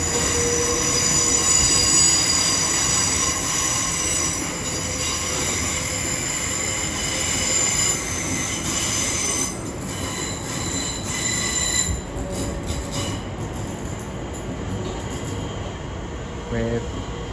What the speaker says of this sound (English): off goes 700 140 with a Thameslink service to Bedford from Brighton